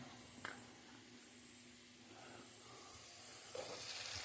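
Onions frying in a pan for a Kannur-style Arabian fish majboos as tomatoes are added, giving a steady soft sizzle and hiss with a brief stir or clatter at the start and another near the end, no talking.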